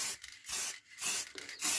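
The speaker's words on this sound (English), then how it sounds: "Just a simple case, spraying it on like so." Finish sprayed onto recycled pine wood in short hissing bursts, about four close sprays with brief pauses between them.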